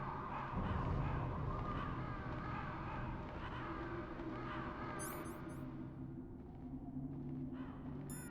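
Repeated harsh crow caws ring out over a droning low background in the PS1 game Metal Gear Solid, calls fairly close and continuous, with brief high clicks near the end and no voices.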